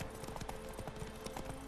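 Hooves clip-clop steadily as a horse is ridden in The Witcher 3: Wild Hunt, a quick, even trotting rhythm that stays fairly faint over the game's low ambient background.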